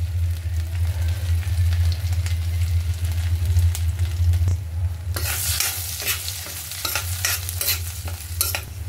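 Cracked green and black cardamom sizzle in hot oil in a pan for a paneer dish, with a steady fry hiss and then sharp, bright crackles and stirring scrapes up close.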